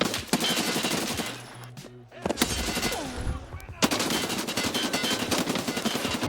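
An unsuppressed SR-3M rifle fires in Escape from Tarkov, loud, sharp rapid-fire bursts cracking repeatedly with a short lull in the middle before the shooting resumes.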